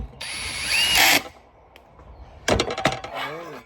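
Cordless drill on a low clutch setting driving small screws into the back plate of an AM/FM 8-track player from a 1977 Monte Carlo: two short, close whirring bursts with stuttering clicks as each screw seats, separated by a quiet gap.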